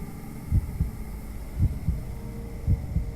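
A heavy, booming heartbeat sound effect in the horror game Death Mark thumps in evenly spaced double beats over a low hum.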